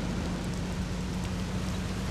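Steady rain in the video game Mafia, a dense continuous hiss with a low rumble underneath, constant and even throughout, at night while driving a convertible, with no voices.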